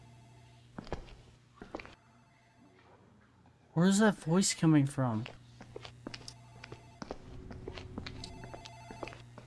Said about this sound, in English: I think that's the phone in the office ringing.